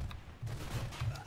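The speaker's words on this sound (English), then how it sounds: "he's got a fucking, like, submachine pistol or something" Rapid bursts of submachine pistol fire in the Mirror's Edge video game, a few quick rattling volleys in about a second, fairly close and loud with no talk.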